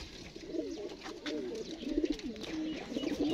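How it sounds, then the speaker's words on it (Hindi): Fighting pigeons, including a red toga-type bird, cooing in close, repeated rolling throaty calls over a low background hum. "जी दोस्तों, एक लाल तोगा कबूतर दिखा रहे हैं"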